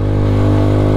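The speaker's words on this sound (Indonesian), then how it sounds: "Kita gas tipis aja saudara dari sini, karena beban motor ini juga cukup berat" A heavily loaded motorcycle carrying a rider and a passenger pulls gently uphill on a rainy mountain road, its engine humming steadily and loudly close by with a low, even drone.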